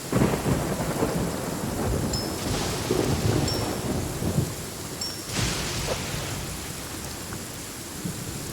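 Steady heavy rain falls in a video game, a dense continuous hiss with low rumbles of thunder rolling underneath and no voices.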